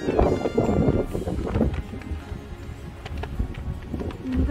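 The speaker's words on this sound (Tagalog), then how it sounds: "Naririnig nyo guys, sobrang lakas ng hangin." Strong wind blowing outdoors on a walk past planted fields, loud buffeting gusts roaring across the microphone in uneven surges throughout.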